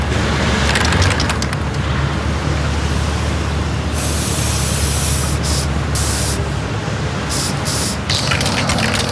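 An aerosol spray paint can hisses steadily and loudly as a sprayer paints graffiti on a building facade, a dense, continuous spray that barely pauses, with faint short breaks near the end.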